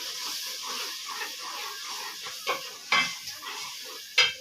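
Curd masala with red chili and turmeric frying in a handi gives a steady hiss and sizzle, with a few sharp clinks of a spoon scraping and stirring against the metal pot.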